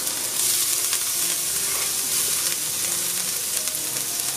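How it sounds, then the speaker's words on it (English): Garlic and ginger sizzle hard in a couple tablespoons of hot oil in a pan for plant-based beef lo mein, a dense, steady hiss that fills the whole stretch with light stirring noise underneath. "hot pan here, going in with a couple tablespoons of oil. Then I'm going in with some garlic and some ginger here"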